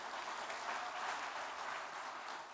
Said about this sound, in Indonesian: Kita berikan aplaus kepada Bapak Presiden.